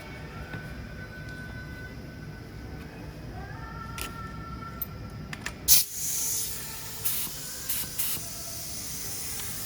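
A paint gun lays a coat of primer over filler work, hissing in short close bursts with gaps between passes, over a steady low background hum.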